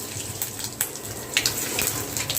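Cumin seeds, added after mustard seeds, sizzle and crackle in hot oil, a steady hissing bed broken by scattered sharp pops across the short stretch, with no voices.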